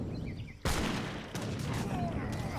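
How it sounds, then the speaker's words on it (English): A musketeer volley in the Age of Empires 3 game cracks out as a sudden loud burst of massed gunfire, followed by a second wave of shots and lingering battle noise under a commentator's voice. "There's a round of musketeers."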